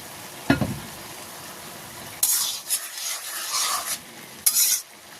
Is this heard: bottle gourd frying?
yes